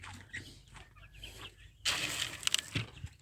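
Free-range chickens on a poultry farm give short, scattered clucks and squawks, then break into a louder burst of close clucking near the end.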